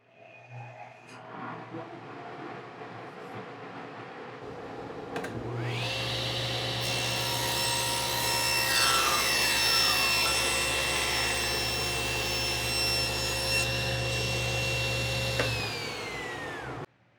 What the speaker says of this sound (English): what I'm going to do next is trim down each side of the sled